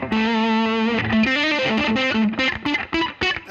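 Electric guitar runs through a modded Ibanez Sonic Distortion pedal with the tone control maxed, playing a held note and then a quicker run of loud, bright, distorted notes with clear attacks, with no voices.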